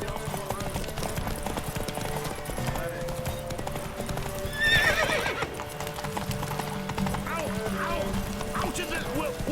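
Horse hooves clip-clop at a steady gallop in The Witcher 3, with a neigh bursting out midway and game voices speaking over the rhythmic hoofbeats.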